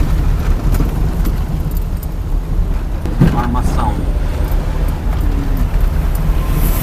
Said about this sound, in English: It's cars, cars, and cars